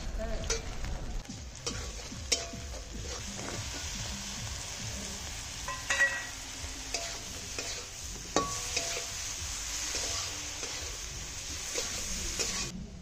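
Chopped onion, chili and garlic frying in a pan, a steady bright sizzle punctuated by scraping stirs and occasional clinks of the utensil, close and continuous with no talk.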